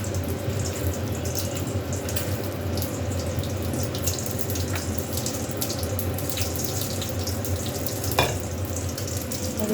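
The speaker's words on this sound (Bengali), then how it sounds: "আর এদিকে দেখো ডিম ভাজা বসিয়ে দিয়েছি।" An egg frying in a pan in a home kitchen gives a steady, even sizzle for the whole stretch, close and moderately loud, with a faint clink near the end and no talking.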